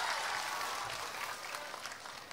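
An audience at a political proclamation rally applauds in a dense, hissing patter that stays fairly steady and then thins slightly toward the end, heard from a distance.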